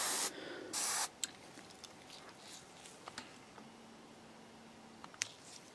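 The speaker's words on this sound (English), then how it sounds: "it's going on as a really, really fine mist" Two short hissing bursts of spray paint misting onto a 1/32 scale T2 T-800 endoskeleton model kit, close and moderately loud, followed by quiet handling clicks and faint taps.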